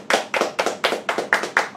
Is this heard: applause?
yes